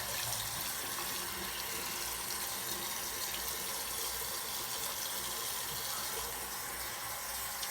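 A bathroom sink tap runs steadily while someone washes their face, a continuous close hiss of flowing water splashing into the basin, even and unbroken throughout.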